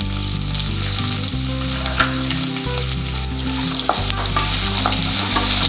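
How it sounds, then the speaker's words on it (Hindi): Finely chopped onion sautés and sizzles in a pan for a matar methi malai curry, a loud, steady frying crackle with occasional stirring scrapes, close up and without talk. "उसके बाद में हम डालेंगे इसमें 1 बड़ा बारीक कटा हुआ प्याज।"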